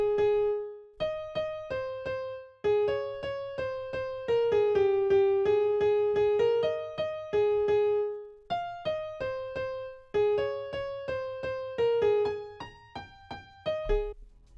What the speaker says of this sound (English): I created the melody in FL Keys, a simple piano from FL Studio itself